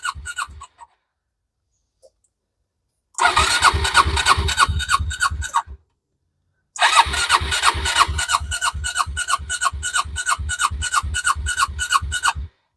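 Yamaha Majesty 400 scooter engine revved hard at full throttle in two loud sustained bursts, with a brief sputter and near silence before them and a short gap between.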